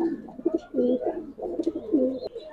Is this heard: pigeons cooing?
yes